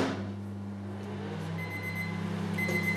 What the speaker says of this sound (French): Le minuteur sonne.